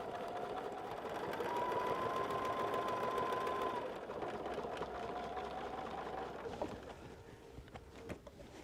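A sewing machine runs steadily while top stitching a quilt, a continuous close whirring hum that carries on for most of the span before tapering into a few lighter clicks near the end.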